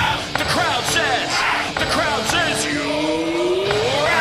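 Cricket crowd at a T20 World Cup match between Australia and Oman in Pallekele, a dense roar of yelling and whooping after a wicket falls, loud and continuous with whistles rising above it.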